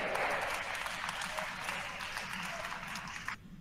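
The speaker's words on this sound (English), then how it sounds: "There's the applause." A church congregation at a Catholic Mass applauds after a homily, a thick wash of clapping filling the room that fades and cuts off just before the end.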